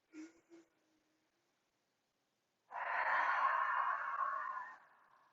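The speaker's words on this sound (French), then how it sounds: "on prend une bonne inspiration, on expire par la bouche" A slow, steady exhale through the mouth during a seated chair yoga exercise, breathy and soft, lasting about two seconds after a brief quiet pause and a couple of faint murmured words.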